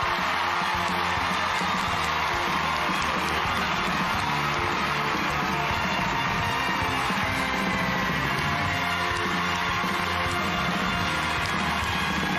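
Audience at a television awards ceremony cheering, a dense continuous roar of applause, whoops and yells from a large crowd, steady and loud throughout.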